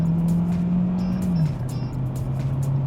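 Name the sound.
Hyundai Tucson Hybrid 1.6L turbo accelerating in sport mode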